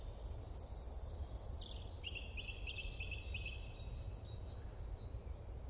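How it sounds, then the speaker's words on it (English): Faint birdsong outdoors: a few high whistled phrases and a short run of repeated chirps over steady low rumbling ambience. "the faint sound of birdsong"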